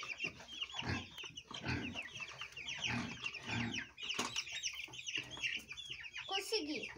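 Chickens and chicks on a small farm cluck and peep continuously, fairly close, with a voice speaking at times among them.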